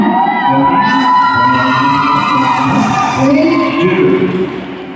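Loud crowd cheering and shouting, sustained and energetic, with whoops rising over a dense roar of voices.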